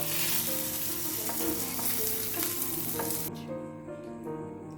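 Hilsa fish pan-frying in mustard oil crackles loudly and steadily up close, with stirring scrapes, until the sizzle abruptly drops to a quieter, duller fry near the end.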